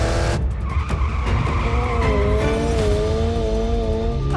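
A 2022 Subaru BRZ driven hard on track skids with a loud, sustained tire squeal, the pitch wavering over a steady engine drone, close and continuous with no talk.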